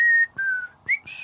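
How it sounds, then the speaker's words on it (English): A woman in a movie whistles tunelessly in a few short, wavering notes with brief pauses between them, alone in a quiet room. "she walks around the room in silence, kind of whistling tunelessly"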